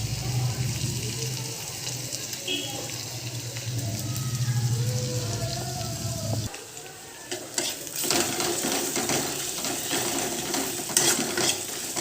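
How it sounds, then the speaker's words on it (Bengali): Onion frying in a pan with ginger-garlic paste being stirred in, a steady sizzle with scraping and stirring strokes, louder clatter and mixing in the second half. "ভালো করে মিক্স করে ভেজে নেবো"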